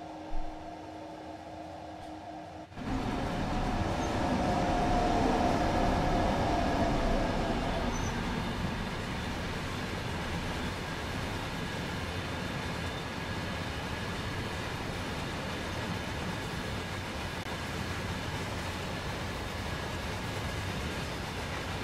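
An intermodal freight train bound for Fulda in Train Sim World 3 rolls along with a steady low rumble and hiss. A brief quieter stretch gives way to a louder, continuous running noise that eases slightly and then holds steady.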